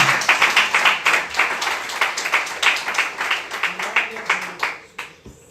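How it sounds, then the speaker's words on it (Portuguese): A church congregation claps rhythmically in quick, even beats that carry on for several seconds before stopping abruptly near the end, with voices mixed in. "Você pode aplaudir ao Senhor com o seu melhor?"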